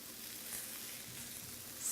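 A burger sizzles hot on a cooking surface with a steady, soft hiss of frying fat, close and continuous with no talking.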